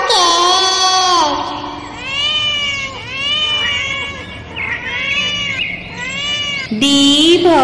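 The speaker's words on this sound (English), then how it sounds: "C for cat." A cat meows repeatedly in a series of drawn-out, rising and falling cries, close and loud, with a short clattering burst near the end.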